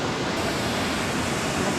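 Steady broadband rush of the waterfall at the Stone Forest in Splendid China park, a continuous close roar filling the whole clip with no gaps and no talk.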